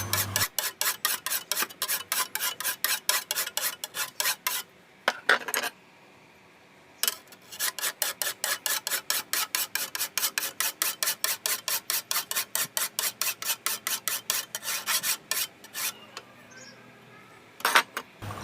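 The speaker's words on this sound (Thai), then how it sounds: "เมื่อเราตรวจสอบดูความคมได้ที่แล้วทีนี้ก็ใช้ ตะไบละเอียด รับต่อ โดยใช้วิธีการรับ แบบเดิมนะครับ" A fine file is drawn steadily across a lawn mower blade to sharpen it, making a close, rhythmic series of rasping strokes that comes in quick, regular bursts and breaks off for a brief pause partway through.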